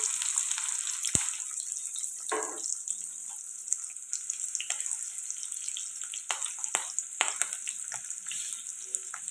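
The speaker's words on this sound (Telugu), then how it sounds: "ఇప్పుడు ఇవన్నీ ఫ్రై చేసుకున్నాం" Cumin, green chillies and onions with curry leaves fry in a pan for a simple tomato curry, a soft steady sizzle with sporadic clicks and stirring scrapes, no voices.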